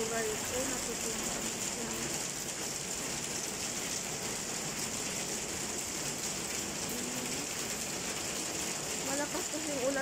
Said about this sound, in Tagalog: Malakas kasi yung ulan dito, tapos mayroon pang hangin.